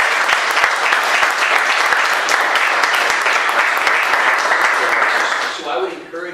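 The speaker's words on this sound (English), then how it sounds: "Let's go ahead and give Pat a round of applause." An audience gathered for a talk on distracted driving gives a round of applause, a loud continuous patter of many hands that carries on for several seconds, then fades out near the end.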